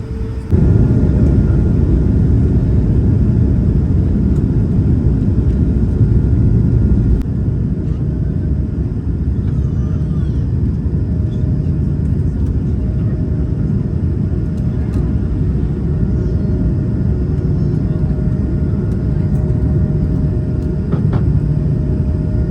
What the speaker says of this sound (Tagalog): Cabin crew, prepare for takeoff.